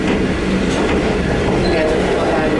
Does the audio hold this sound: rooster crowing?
no